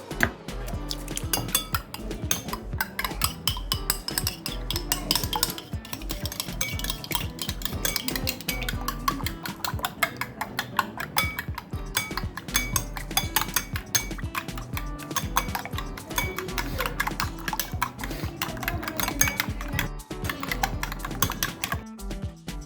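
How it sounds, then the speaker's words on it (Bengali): Two eggs are whisked in a bowl for a crispy potato biscuit coating, producing rapid, steady clinking and tapping of a utensil against the bowl, close and continuous for the whole stretch. "একটি বাটিতে দুটো ডিম ফেটিয়ে নিন।"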